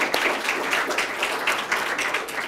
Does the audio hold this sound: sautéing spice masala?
no